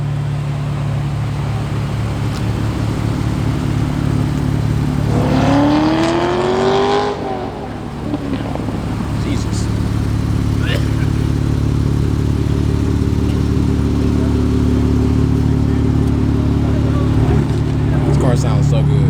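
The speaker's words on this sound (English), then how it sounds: "This car sounds so good." Car engine at a car meet, loud and close, holding a steady droning tone with a brief rising rev in the middle, then settling back to a rumble; a voice is audible at times over it.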